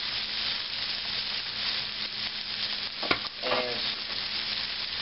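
Onions frying in a pan for Japanese-style fried rice give a steady, close broadband sizzle throughout, with a brief scrape of stirring near the middle.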